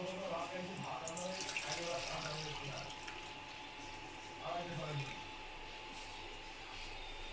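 Hot water is poured from a kadai into a bowl in a home kitchen, a continuous near splashing trickle under intermittent talking.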